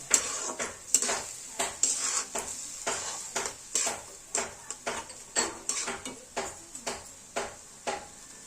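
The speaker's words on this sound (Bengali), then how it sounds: "বন্ধুরা দেখুন আমরা সমস্ত চাল দিয়ে ভালো করে আমরা মশলার সাথে আমরা কষিয়ে নেব" Rice being sautéed with spices in a pan for Bengali khichuri, a spoon scraping and knocking against the pan in regular strokes roughly every half second over a soft sizzle, close and alone.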